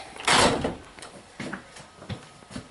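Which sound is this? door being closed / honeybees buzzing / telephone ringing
door being closed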